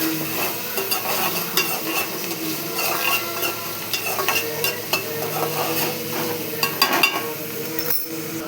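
Oil sizzles steadily in a pan while a utensil stirs and scrapes through it, with frequent small clinks against the metal. The sound is close and continuous, with no talking.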